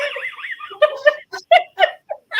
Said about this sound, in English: that's our dog playing with a squeaky toy.